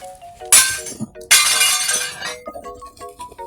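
A ceramic bowl is smashed during demolition work on an old bar, producing two loud bursts of breaking and shattering with clinking shards, separated by a short pause, with quieter clinks trailing after.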